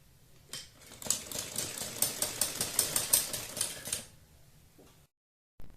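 A sewing machine stitches a strip along a blouse neckline in a close, rapid, evenly pulsing run lasting about three seconds, then stops, leaving near silence.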